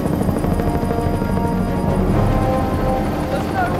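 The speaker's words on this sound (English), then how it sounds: "There's no way the chopper's going to be able to land amongst those trees." A helicopter flies over a forest in volatile, stormy wilderness, its loud, continuous rotor thump pulsing steadily throughout and nearly drowning out a voice speaking under it.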